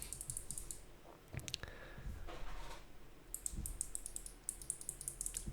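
Clicky Kailh Box Navy keyboard switches being typed, crisp sharp clicks in quick bursts at the start and a fast rattling run near the end, fairly close with a low room hum beneath.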